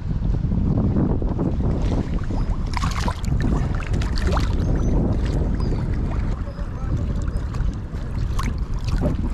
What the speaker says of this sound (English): Especially in these windy conditions.